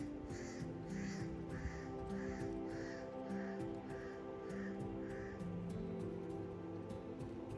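A crow in Haiti gives a regular series of about nine short, harsh caws from a moderate distance, over a steady low hum and faint background sounds.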